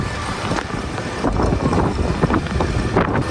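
Wind blows on an overcast, cloudy day after rain, roaring and buffeting close against the microphone in gusts for a few seconds.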